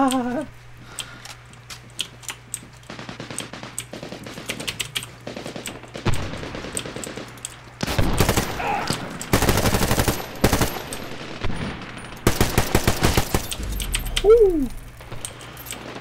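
Rapid automatic gunfire in the Medal of Honor Warfighter video game, bursts clattering loudly in several volleys with brief gaps between them, game effects and a brief voice-like sweep near the end.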